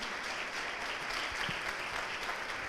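A church congregation bursts into steady applause, a dense wash of clapping filling the hall for a few seconds, with voices faintly mixed in.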